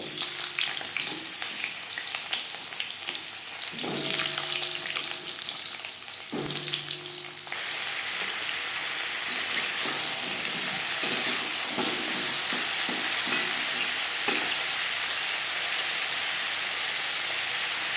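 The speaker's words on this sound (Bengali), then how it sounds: "সবার প্রথমে আমি পটল ভেজে নেব" Pointed gourd (potol) frying in refined oil in a wok, a sustained loud sizzle and crackle with occasional scraping stirs, steady from start to finish without speech.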